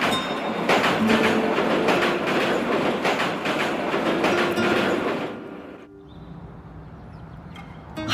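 Train running on rails with steady rhythmic clickety-clack of wheels over joints, loud and close for about five seconds, then fading to a quieter rumble.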